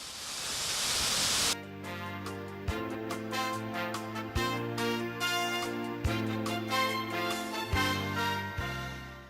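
A steady rushing roar of an Alaskan waterfall fills the first moments, then gives way to a drifting sustained tone with periodic soft thumps, the water noise loud and close before it cuts away.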